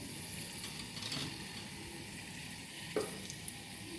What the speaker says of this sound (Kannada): ಕಡಲೆಬೇಳೆ ಮತ್ತು ಉದ್ದಿನಬೇಳೆ ಫಸ್ಟ್ ಹಾಕಿ ಸ್ವಲ್ಪ ಫ್ರೈ ಮಾಡ್ಕೊಂಡಿದ್ದೀನಿ